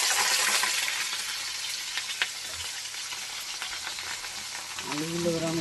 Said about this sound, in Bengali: আলুগুলো এবার আমি একটু ভেজে নিই।